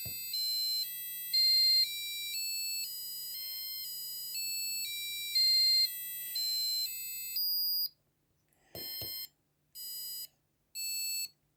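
An ESP32-driven passive buzzer plays a 15-note tune, thin electronic beeps stepping through pitches one after another, then after a short gap a few separate tones sound alone, fairly faint with a low background hum.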